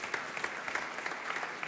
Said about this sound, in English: So give a big hand to Real Ethereum.